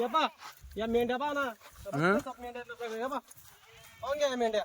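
Kathewadi sheep bleat repeatedly at a sheep sale, several loud, quavering calls close by in quick succession, with brief gaps between them.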